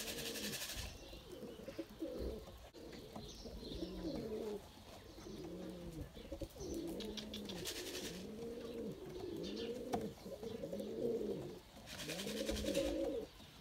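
Pigeons coo repeatedly in a pigeon coop, a soft, rhythmic series of low rounded calls, fairly close, with faint background noise and occasional rustles.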